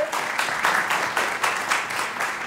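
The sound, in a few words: applause from conference audience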